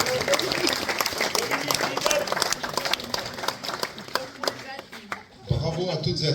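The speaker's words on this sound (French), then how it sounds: "je voudrais qu'on l'applaudisse encore une fois bien fort" Audience applause at an artists' dinner, dense sustained clapping from a crowd that thins briefly near the end before swelling again, with voices mixed in.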